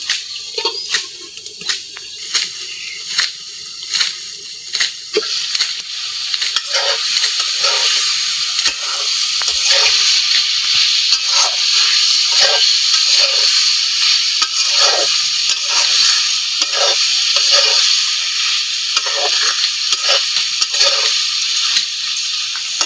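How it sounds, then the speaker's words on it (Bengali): Beef sizzles as it is stir-fried in a pot for village-style khichuri with mung dal and beef fat, a loud continuous frying hiss with irregular stirring scrapes and clacks, close up and without speech. "তা গোস্তটা তো ঢাকনা দিয়ে এখন আমি ভালো করে কষাই নিমু"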